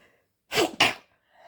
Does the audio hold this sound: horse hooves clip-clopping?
no